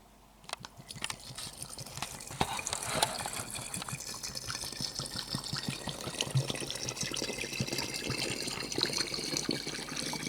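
Liquid poured steadily into a glass while mixing a Negroni, a continuous close gush with a soft splash at the start and no talk over it.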